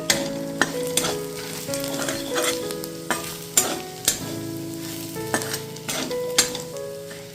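Masoor dal with garlic and Kashmiri red chilli powder is stirred in a hot pan: a sizzling bed under a steady run of sharp spatula scrapes and knocks against the metal.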